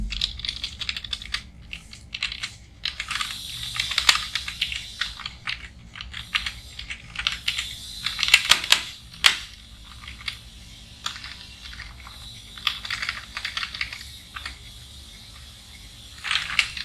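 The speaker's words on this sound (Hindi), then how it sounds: "मैं यहाँ जब तक मैं प्रेजेंट एब्सेंट में टाइप कर देता हूँ।" Close, continuous clicking of a computer keyboard while entering present and absent marks into an Excel attendance register, with rapid irregular keystroke bursts, brief pauses and louder taps, and no speech.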